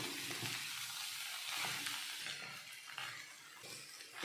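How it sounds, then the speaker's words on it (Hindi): Potatoes roast in a pan with coriander powder, turmeric, red chilli powder, sambar masala and salt, giving a steady close sizzle with soft stirring scrapes throughout. "अब भूनेंगे आलू को मसालों के साथ में।"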